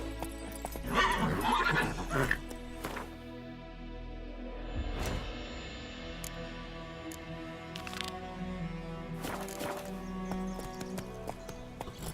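Roach the horse in The Witcher 3 video game whinnies and clip-clops, with a loud burst of neighing near the start, then hoofbeats and sharp clattering knocks spread through the rest, with no talking.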